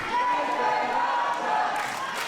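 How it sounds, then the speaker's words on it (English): Wrestling crowd at an indie IWU show chanting a wrestler's name, a steady, dense roar of many voices sustained throughout with a faint rhythmic swell. "Crowd firmly behind Nathan Archer here. They're chanting his name like the idiots that they are."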